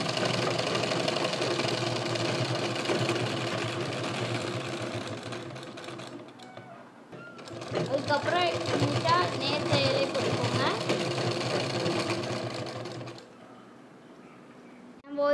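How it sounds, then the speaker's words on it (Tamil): Sewing machine stitching a folding jute purse, running in two long bursts with a short pause around the middle and stopping near the end, loud and close, with a few mechanical clicks. "இதே மாதிரி மேலே வந்து ரெண்டு தையல் போட்டுக்கோங்க"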